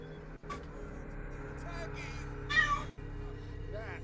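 A single sharp meow from a cat in the Call of Cthulhu video game rises past the midpoint, set against a low game ambience, with faint voices talking around it.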